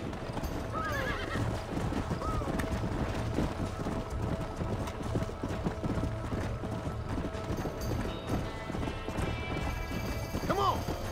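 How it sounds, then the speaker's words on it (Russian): Horses in the Red Dead Redemption video game whinny and clatter along at a run, hooves drumming continuously under a dense game soundscape, with a few shrill neighs rising clearly above the galloping. "Ну-ка отойдите с дороги,"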